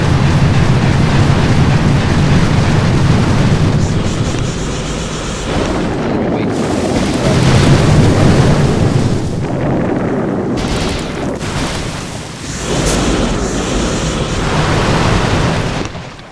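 In the Boom Beach warships video game, a heavy rush with barrage fire produces a loud, continuous rumble of overlapping explosion bursts that swell and fade in waves.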